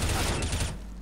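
Rapid burst of Counter-Strike: Global Offensive gunfire, dense and loud for most of a second, then cutting off into quieter game ambience.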